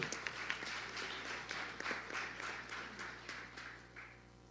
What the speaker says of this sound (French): Oui, vous pouvez applaudir, hein, si ça vous fait envie, pas hésiter.